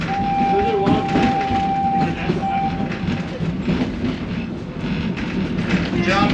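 A ride train at Disney's Animal Kingdom rumbling steadily up close, with a continuous rolling roar and a brief high whine. A voice talks under the noise.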